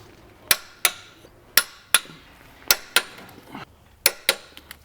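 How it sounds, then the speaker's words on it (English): Torquing the oil pan bolts of a BMW N52 engine to 108 Newton meters: about nine sharp, crisp metallic clicks in loose pairs, close and clear over a quiet workshop background with no talking. "we're going to torque all of them to 108 Newton meters"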